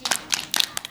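A group of young children at an Indonesian Muslim kindergarten clap their hands in a quick, uneven burst of claps, close and fairly loud.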